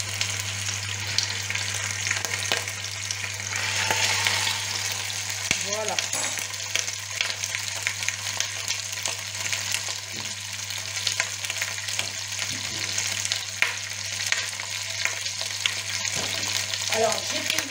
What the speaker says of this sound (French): on va mettre notre viande puisque notre huile est chaude